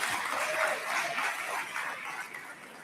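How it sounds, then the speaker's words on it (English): Audience applause at an ALEC annual meeting afternoon session, a moderate patter of clapping that fades gradually over about three seconds. "I think that deserves applause."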